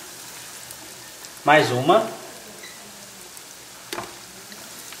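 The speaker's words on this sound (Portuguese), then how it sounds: "então eu vou deixar fritar aqui" Chicken coxinhas fry in a pan of oil with a steady, soft sizzle throughout, while a voice speaks briefly and a few splashes or clatters rise above the bubbling.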